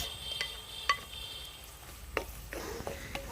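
Crushed shallots frying with ginger and curry leaves in hot oil make a low sizzle, broken by a few sharp scrapes and clinks of a stirring utensil against the pan, quiet and without voices.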